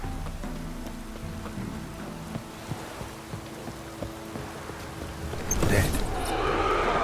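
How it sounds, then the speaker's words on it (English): Rain patters steadily across surfaces in The Witcher 3, a dense hiss with scattered drop ticks and low tones beneath, swelling louder and brighter toward the end. "Looks like rain."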